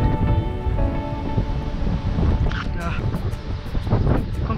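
Strong wind on Lanzarote during a bikepacking trip roars continuously against the microphone, a dense low buffeting rumble with no breaks, loud and close throughout.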